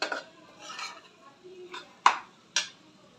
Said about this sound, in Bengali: এখানে আলুগুলো দিয়ে আমি গ্রেভিগুলোর সাথে ভালো করে মিক্স করে একটুক্ষণ কষিয়ে নিলাম